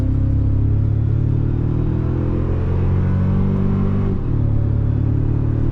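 A 2025 Toyota Tacoma TRD Pro in sport mode accelerates onto a highway, its engine a steady loud cabin drone and rumble that climbs gradually in pitch, dipping briefly near a gear shift before resuming.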